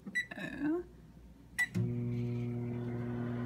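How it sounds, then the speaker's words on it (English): Keypad beeps sound first, then a microwave oven starts with a click and settles into a steady, close hum while a mug cake heats inside. A voice is heard briefly at the start. "So here's my mug in the microwave, and I'm just going to start it"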